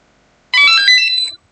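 A short, bright electronic melody of beeping tones from a hoverboard motherboard after firmware flashing plays once, loud and close, lasting under a second.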